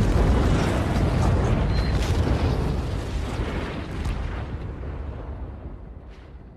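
A heavy, rumbling explosion as a building is destroyed, with crackling debris, loud at first and slowly fading over several seconds.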